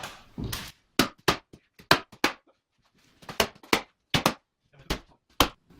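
Sharp metallic taps from a small engraver's hammer, struck in irregular clusters with brief pauses, close and crisp against a quiet background.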